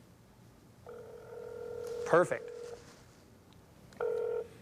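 A mobile phone on speakerphone giving out a ringback tone: two long steady electronic tones set apart by a pause, with a brief spoken word between them.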